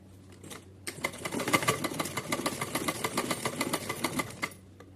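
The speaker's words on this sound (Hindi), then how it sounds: "यहां से सिलाई लगा के लानी है मुझे ऊपर से।" A sewing machine runs steadily for about four seconds after a short pause, stitching fabric for a small doll-sized Radha Rani dress, its rapid needle clatter close and even throughout.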